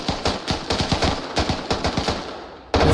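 Rapid automatic gunfire bursts in the military shooter game Arma Reforger during a 20 vs 20 competitive match with house-to-house fighting, loud close bursts of repeated shots with short gaps, cutting off briefly before resuming.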